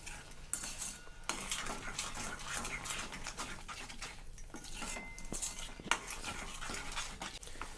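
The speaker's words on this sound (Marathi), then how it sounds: "आता ही जोपर्यंत घट्ट होत नाही तोपर्यंत छान असं मिक्स करत राहायचं आहे।" A thick tamarind and jaggery mixture is worked in a pan, with repeated scraping and clinking of a spoon against the metal over a faint sizzle, close and moderately quiet, no talk.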